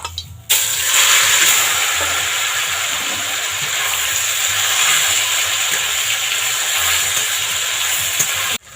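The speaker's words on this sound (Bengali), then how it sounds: "তেলটা গরম হয়ে গেছে এবার চিকেনটা দিয়ে দেবো" Chicken pieces hit hot mustard oil with a loud, steady sizzle that bursts in suddenly and roars evenly for several seconds, then cuts off, no talking.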